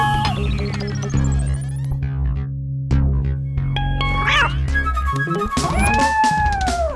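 A cat meows in drawn-out, wavering cries over a steady background of music and hum that runs throughout.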